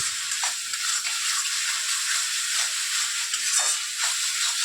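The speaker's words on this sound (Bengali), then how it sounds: "আমি এটা কষিয়ে নিচ্ছি, খুব ভালো করে কষিয়ে নিচ্ছি এটাকে" A spice mixture for Bangladeshi chicken tehari is stir-fried in a pan, giving a steady close sizzling hiss broken by regular soft scrapes of stirring.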